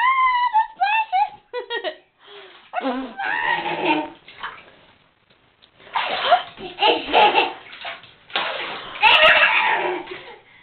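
A small child splashes water in a bath, with bursts of sloshing and slapping water mixed with a child's giggles and vocal sounds, while an adult speaks nearby.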